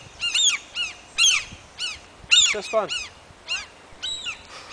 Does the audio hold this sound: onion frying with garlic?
no